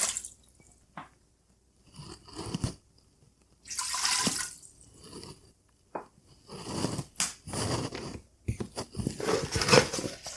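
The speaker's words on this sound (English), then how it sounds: "So I have pre-measured out 1 cup of water that I'm going to put in." One cup of water poured into an Instant Pot, wet splashing and sloshing in several uneven bursts with quieter gaps between, close and moderately loud.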